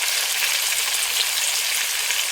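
Curry sautés in a pan with ginger and salt, giving a steady, loud, hissing sizzle up close with no pauses and no talking.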